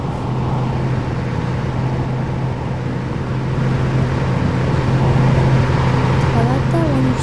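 An electric truck in the Roblox game Greenville accelerates with a steady motor whine and road hum that builds gradually, and a rising tone appears near the end. It carries on continuously at close range.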